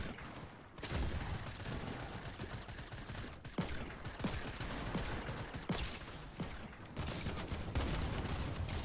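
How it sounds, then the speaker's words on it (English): Rapid video game gunfire crackles in dense, continuous bursts with brief gaps, a steady barrage of shots from players firing at each other. "I'm literally shooting them so many times."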